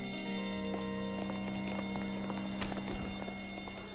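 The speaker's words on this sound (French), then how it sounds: "L'alarme incendie." A fire alarm rings indoors, a steady electronic tone with a constant buzzing ringing texture throughout, with faint clattering noises over it.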